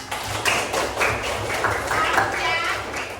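Children clap together in a classroom activity, a steady dense patter of many small hands lasting the whole stretch at moderate loudness, with no speech over it.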